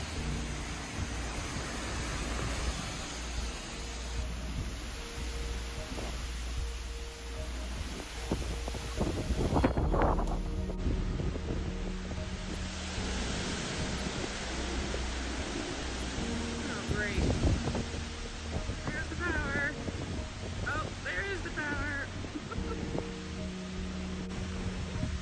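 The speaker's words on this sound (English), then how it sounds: "It was still quite windy the next day," Strong gusty wind the day after Hurricane Fiona in Nova Scotia roars and buffets the microphone continuously, with rustling and occasional bumps throughout.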